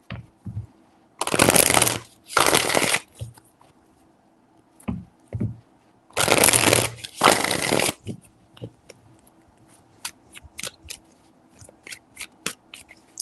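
Tarot cards are riffled and shuffled in two pairs of loud, crisp bursts, separated by quiet pauses, followed by scattered light taps and card handling.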